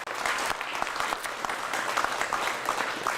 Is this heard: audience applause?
yes